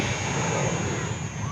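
Small electric motor of an FMS PA-18 Super Cub micro RC plane running on grass, a steady high whine over a rough continuous rumble, close and fairly loud.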